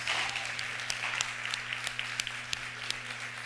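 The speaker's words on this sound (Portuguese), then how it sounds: "Aí, vamos dar uma salva de palmas pro pessoal do louvor." A congregation at a Pentecost Sunday morning church service applauding the worship team, with steady moderate clapping over a low electrical hum, heard from across the room.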